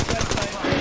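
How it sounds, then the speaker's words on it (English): Rapid machine-gun fire in Apex Legends, a close, steady rattle of shots filling the brief moment without pause. "Listen up, I'm getting shot at."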